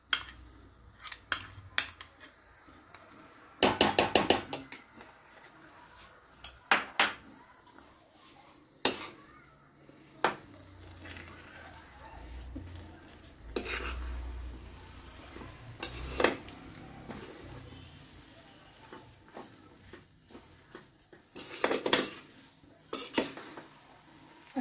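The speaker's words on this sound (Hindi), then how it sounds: "अब जो बची हुई मलाई है वो भी हम इसमें मिक्स करेंगे।" Semolina halwa with leftover cream being stirred in a pan, a spoon scraping and clinking against the metal with soft sizzling, in intermittent strokes and bursts, fairly close and without talk.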